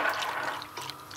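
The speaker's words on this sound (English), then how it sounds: "Just a little bit vanilla essence we're gonna pour." Vanilla essence poured in a small amount into a milk tart mixture, a brief steady liquid trickle lasting about a second, close and quiet.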